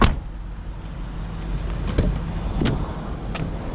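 A 2000 BMW 540i V8 sedan pulls away with a low, steady engine rumble and a few light clicks and knocks from inside the cabin, with no one talking.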